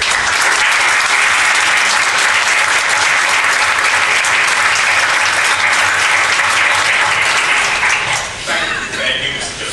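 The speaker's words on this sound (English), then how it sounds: "they deserve a round of applause for what they have done" Sustained round of applause fills the room at a board of trustees meeting, dense and loud clapping from many hands that holds steady for several seconds before thinning toward the end.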